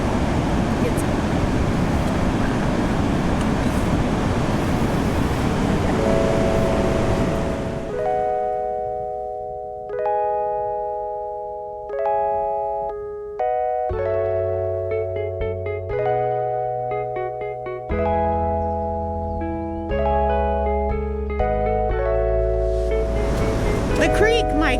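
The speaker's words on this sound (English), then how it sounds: "waves crash." Ocean waves crash on a beach, a loud, close roar of surf for several seconds. Then melodic music notes take over, and the surf surges back at the end.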